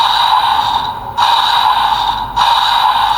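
A Kamen Rider DX Breakam Buster toy weapon plays its electronic attack effect, a loud, steady buzzing synthetic tone with two brief dips, sounding alone and close.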